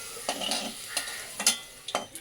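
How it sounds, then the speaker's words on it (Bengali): Radish fries in oil with salt in a pan, giving a hissing sizzle broken by about five sharp scraping stirs at irregular intervals, close and clear, with no speech. "মূলোটা ভালো করে একটু নুন দিয়ে ভেজে নেব"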